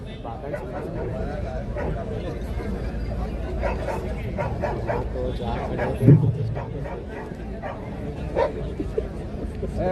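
Dogs bark at a dog show, short sharp yips and barks repeating irregularly amid a busy hum of crowd chatter, with someone speaking over them.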